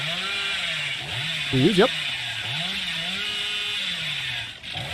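The Hillbilly's chainsaw in Dead by Daylight drones steadily, then gives one sharp rising rev burst midway. A voice briefly speaks over it.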